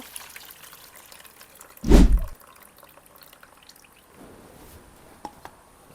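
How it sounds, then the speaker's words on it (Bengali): Bele fish being rinsed in water, a single short splash and slosh near the middle, then faint trickling and drips under quiet background noise. "এখন আবার একটু ভালোভাবে ধুয়ে নিতেছি"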